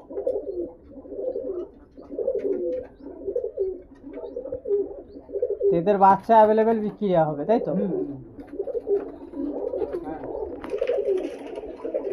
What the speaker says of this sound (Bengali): এখানে পায়রা প্রচুর পায়রা আছে